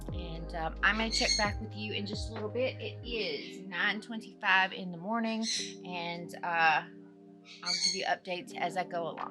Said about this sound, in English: so that you don't have to hear the bird squawk anymore